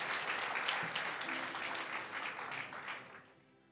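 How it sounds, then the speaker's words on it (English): A church congregation applauds its worship team, a dense, even wash of clapping from many people that holds steady and then fades out near the end. "Would you give them a applause?"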